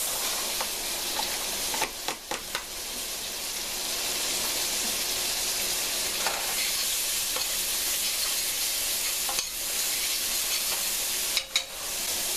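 Onions and curry leaves fry in a pan for a chicken and lentil curry, giving a steady, close, dense sizzle with a few soft stirring knocks and scrapes along the way.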